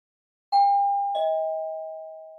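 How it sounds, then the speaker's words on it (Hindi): A house doorbell at the front door gives a clear two-tone ding-dong, two bright chimes about half a second apart, the second ringing on and slowly decaying in otherwise quiet surroundings. "तभी घर के दरवाजे की घंटी बजी"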